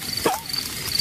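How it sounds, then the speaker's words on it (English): Cricket chirps at a campfire in the countryside, a thin steady high-pitched trill recurring through the moment alongside one brief faint whistle-like call. "That is the sound of crickets chirping."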